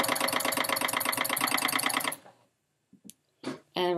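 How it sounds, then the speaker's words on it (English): A sewing machine stitches quilt block fabric pieces in a fast, even, rapid rhythm for about two seconds close up, then stops; a few brief clicks and handling sounds follow. "So we'll go ahead and start sewing all the way down to the bottom."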